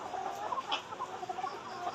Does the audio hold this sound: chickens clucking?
yes